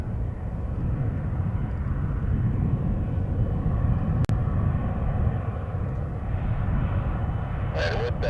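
Airliner taking off from runway 6 right at Montréal-Trudeau Airport, a steady broadband engine roar and rumble holding at close, loud level throughout, with one brief sharp click midway and a faint rattle near the end.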